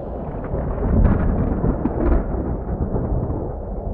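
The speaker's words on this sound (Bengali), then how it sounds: "আকাশে মেঘের গর্জন শোনা গেল হঠাৎ করেই।" Deep, rolling thunder rumbles through a ghost story set on a village night, swelling in low booming waves with a few sharper cracks near the start and middle, steady and loud for the whole stretch with no voices.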